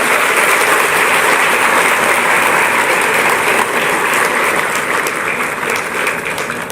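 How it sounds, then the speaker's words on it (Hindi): A ceremony audience in Uttar Pradesh breaks into loud, sustained applause, many hands clapping densely and evenly for several seconds before gradually thinning toward the end. "आपकी दोहरी तालियां अपेक्षित हैं"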